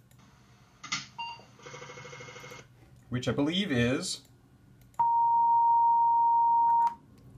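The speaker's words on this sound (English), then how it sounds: "This is the startup sound of an Apple IIe," An Apple IIe computer gives its startup beep: a single steady, loud electronic tone held for about two seconds. It comes after someone talks over other brief electronic bleeps.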